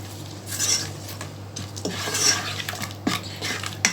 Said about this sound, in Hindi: सबसे पहले हम इस मसाले को थोड़ा सा भूनेंगे